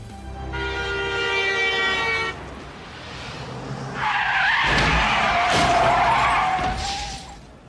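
A film scene of cars screeching into a hard skid with a horn blaring, then a sharp impact as a pedestrian is struck and the tires keep squealing, loud and close, with no talk.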